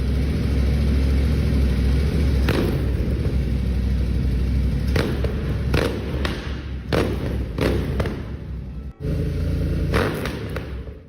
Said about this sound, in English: This was the sound of the Cerra GT865.